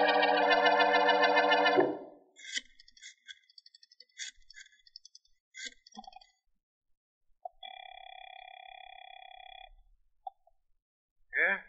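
A telephone in an old-time radio mystery drama rings in bursts, with electronic tones, clicks and a brief dial-like signal following, all clear and close with no talk.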